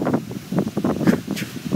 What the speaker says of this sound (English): It's this wind.